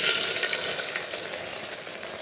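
Mutton masala sizzles in hot oil with a steady, bright hiss and light stirring scrapes, close and continuous, fading slightly toward the end.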